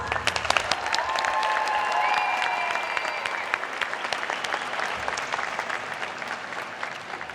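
Audience applause at a university graduation and diploma ceremony, a broad, steady roll of many hands clapping in a large hall, holding evenly for several seconds before slowly thinning.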